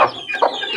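Backyard chickens, checked for colds, give a few short clucks close by with no talk, over a brief stretch.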